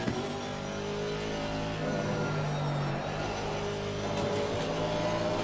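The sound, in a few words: Aston Martin AMR V8 race car engine accelerating, Assetto Corsa Competizione video game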